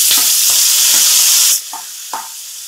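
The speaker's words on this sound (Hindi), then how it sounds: "अब हम इसे एक बार चला लेंगे और इसमें हम टमाटर डालेंगे" Green chillies sizzle and fry in a hot pan as they are stirred, a loud steady hiss for about a second and a half, then quieter scraping stirs.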